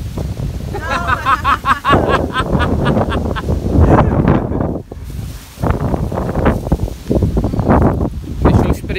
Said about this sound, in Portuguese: o vento tá fortíssimo